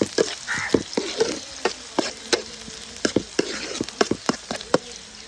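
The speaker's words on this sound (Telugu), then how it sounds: "తరిగి పెట్టుకున్న ఉల్లిపాయ పచ్చిమిరపకాయ ముక్కలు వేసుకుని వేపుకోండి" Chopped onion and green chili pieces fry in hot oil in a pot, a steady crackling sizzle punctuated by sharp spatters and stirring clicks, close and fairly loud with no talking.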